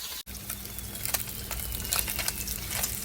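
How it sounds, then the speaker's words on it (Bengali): Fish fries in a pan with a steady close sizzle and scattered spitting pops, after a brief dropout at the very start, with a faint low hum running underneath. "মাছ ভাজা এই যে হয়ে গেছে আমি তুলে নিচ্ছি"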